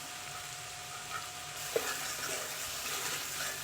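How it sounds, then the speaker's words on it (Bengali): Ginger-garlic paste fries in a pan with chili powder and cumin powder for Bangladeshi-style egg korma, a soft, steady sizzle with a light stir clack partway through and no voices. "আদা রসুনের কাঁচা গন্ধটা যাওয়ার জন্য আমি এটা কিছু সময় ভেজে নিব।"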